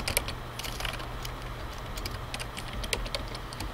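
Steady typing on a computer keyboard, a continuous patter of soft clicks with occasional sharper keystrokes, close and alone without speech.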